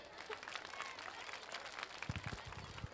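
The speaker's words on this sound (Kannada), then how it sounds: "ಒಂದ್ಸಲ ಜೋರಾಗಿ ಚಪ್ಪಾಳೆ ತಟ್ಟಿ." Children applauding loudly at a school annual day celebration, a faint, distant wash of many small hands clapping, with a few heavier thumps near the end.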